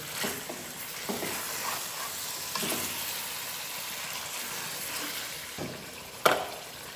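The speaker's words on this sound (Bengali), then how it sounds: "এই জন্য আগে মাছটাকে খুব ভালো করে কিন্তু কষিয়ে নিতে হবে।" Pangas fish is stir-fried in hot oil, giving a steady close sizzle with scraping stirs and occasional light clinks of a utensil against the pan, and no talk.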